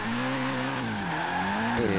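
A car drifts in Forza Horizon 3, its engine holding a steady tone while the tires squeal continuously through the slide, with a short shift in pitch near the end.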